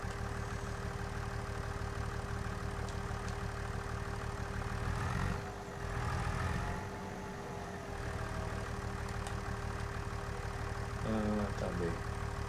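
Tractor engine idling in a farming video game, a steady low droning hum running throughout at moderate level, with a brief dip midway and a short mechanical rattle near the end.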